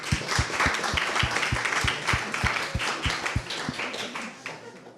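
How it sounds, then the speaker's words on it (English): Hands clap in a steady rhythm of sharp, evenly spaced claps after a hackathon team's pitch, joined by a softer, scattered patter from the audience in an indoor room, fading toward the end. "A round of applause, I think."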